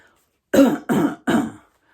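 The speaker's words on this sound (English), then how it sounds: "I coughed in what I hoped was an ominous sort of cough." Three short, harsh coughs in quick succession, close and clear, with silence before and after.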